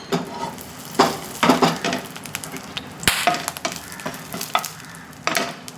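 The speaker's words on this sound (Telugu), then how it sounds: "ఆయిల్ అయితే కాగిపోయింది తాలింపు దినుసులు వేసాను" Tempering spices hit hot oil in a kadai and crackle in repeated sharp sizzling bursts, mixed with the clatter of stirring in the pan, close and loud with no talk.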